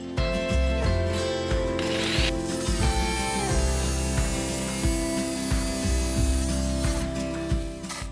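A jigsaw cuts a roof vent hole for a Fiamma Turbo vent in the metal roof of a Renault Master van conversion, a loud continuous buzzing motor with rapid rhythmic blade chatter and rasping throughout.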